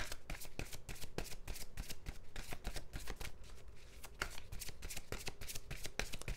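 A deck of cards being shuffled for a tarot-style reading, with rapid repeated riffling bursts close up and steady through the whole stretch, no talking.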